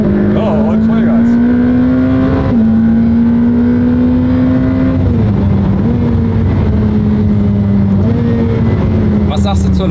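A Ferrari accelerates at full throttle on a racetrack, its engine note climbing steadily and dropping at each upshift, loud and close from inside the cabin, with people talking over it.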